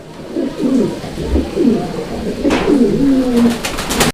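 Fancy pigeons on a small pigeon farm coo in repeated rolling phrases, close and clear. A few sharp handling clicks come near the end.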